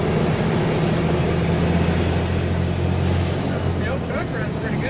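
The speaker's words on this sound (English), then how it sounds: "The old truck runs pretty good though." An old 2.5-ton crew cab truck being built into an overland camper runs with a steady low engine rumble, loud and close, while people talk over it.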